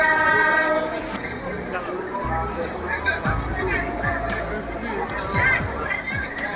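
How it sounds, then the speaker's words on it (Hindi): Train pulling into a station on a Bhubaneswar to Kakinada journey, a loud low rumble and clatter of rolling carriages with a horn blast near the start, under crowd chatter and nearby talk. "देखो ट्रेन आसिक पहुँची गला।"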